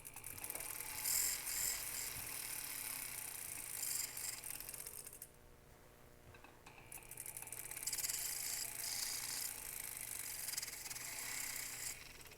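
A low-RPM rotary tool works slowly along the bottom edge of a trillion cut ring bezel wall at about a 45-degree angle, a steady close grinding whir with one brief dip in the middle, and nobody talking.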